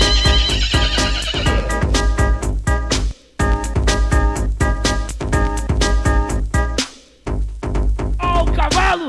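Horse neighing and whinnying sample cut into a loud Brazilian funk montage track, the whinnies riding over a heavy pounding beat with short gaps where the music drops out.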